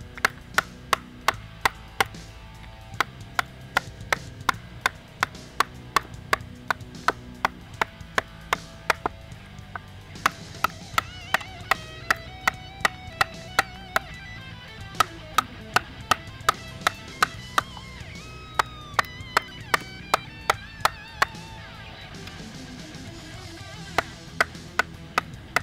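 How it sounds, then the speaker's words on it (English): Light chopping into wood with a small Schrade SCHF55 fixed blade knife, a run of sharp, fairly regular thwacks about once or twice a second, close and crisp with no talking. "Start off by showing you guys some light chopping."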